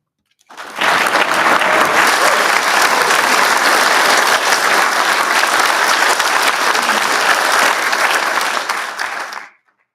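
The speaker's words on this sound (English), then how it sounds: "we've been applauding you" Applause from a large audience at a winter university graduation ceremony starts abruptly, holds as a dense, even roar of clapping for about nine seconds, then fades out quickly.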